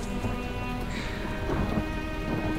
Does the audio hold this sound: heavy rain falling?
yes